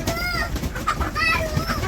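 Chickens cluck and call in a village yard, several birds close by in a busy, continuous chorus with a voice speaking over them.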